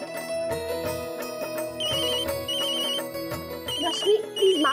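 A telephone rings with a repeating electronic ringtone in a home setting, with a kitchen gas stove on nearby and background music underneath.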